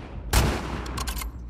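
Gunfire in the video game The Last of Us Part II, a headshot: a loud sharp shot followed by a few quicker, lighter cracks, heard alone.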